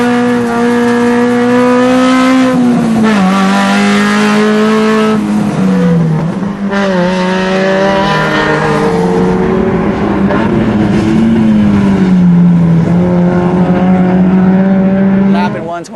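A race car laps a road racing track, its engine a loud, continuous droning whine that rises and falls in pitch through gear changes and corners, holding steady for the whole stretch.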